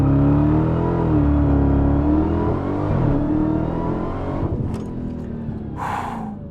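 A Dodge Demon's engine roars loudly during a launch, a sustained high-revving growl with a rising and falling pitch, close and dominant, then easing off at the end.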